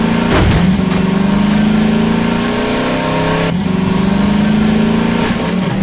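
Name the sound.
buggy engine revving in Half-Life 2 video game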